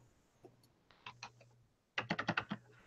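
Quick bursts of computer keyboard typing at close range, a few scattered keystrokes followed by a rapid run of clicks near the end, with no talking.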